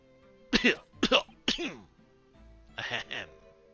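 A voice in the video game The Great Ace Attorney Chronicles gives several harsh, strained coughs in quick bursts, coughing up blood, pauses, then coughs twice more, close and clear.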